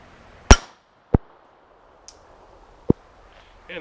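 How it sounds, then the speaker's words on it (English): A Beretta 950 BS Jetfire .25 auto pistol fires a few sharp, isolated shots at irregular intervals outdoors, each a brief crack followed by quiet, with a faint metallic ping between them. "We shot 8 times, and how many hits we get?"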